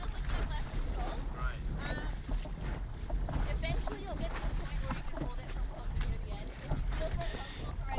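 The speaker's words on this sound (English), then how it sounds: "That's why the sail is flapping around all over the place." Laser dinghy sail flapping in strong wind on open water, a continuous blustery rush and flutter with heavy wind buffeting on the microphone and no clear break.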